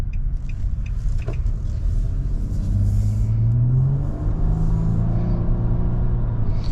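A 2022 Nissan Maxima's 3.5-litre V6 engine rumbles steadily and then rises in pitch as it accelerates, a smooth building drone heard from inside the moving car.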